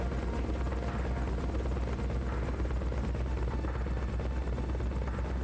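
Helicopter in the Metal Gear Solid: Peace Walker video game, a steady, continuous rotor drone and buzz that holds at an even level throughout, with no speech over it.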